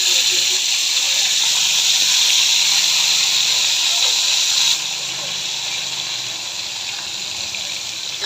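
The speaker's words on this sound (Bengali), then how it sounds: "এখন আমি ফ্রাই প্যানে ভেজে নেব তেল গরম হয়ে গেছে" Spiced fish pieces fry in hot oil in a frying pan, producing a loud, continuous hissing sizzle close by that eases slightly partway through.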